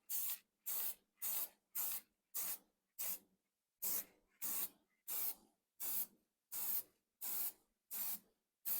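Spray paint hisses in fourteen short, even bursts while a Worthington Ingeco engine head gets a quick coat, each puff about half a second long with brief silent gaps between, close and steady with no talking.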